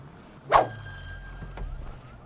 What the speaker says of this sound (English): we hear the phone's ringing